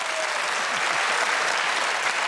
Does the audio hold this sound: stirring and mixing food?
no